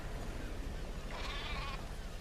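A single short sheep bleat in the video game Metal Gear Solid V: The Phantom Pain rises over a steady low background rumble, brief and moderately faint.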